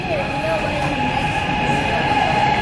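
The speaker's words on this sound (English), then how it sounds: "We missed the subway." Nanning subway train rumbles steadily nearby with a faint metallic wheel squeal, the loud continuous rolling roar filling the platform while people talk briefly over it.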